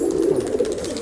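Pigeons cooing at close range in a continuous low throaty murmur, steady and fairly loud, with no voices over it.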